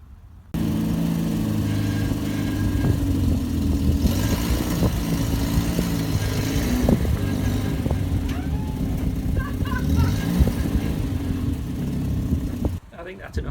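A barn-find Volvo 480ES engine starts up, runs at a steady, even idle for about twelve seconds, then cuts off abruptly. The mid-pitched hum is close, fairly loud and unbroken.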